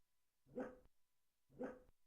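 Two separate barks from a dog in the Minetest video game with the Animal Mod Pack, evenly spaced about a second apart, clear and fairly close, with no talk.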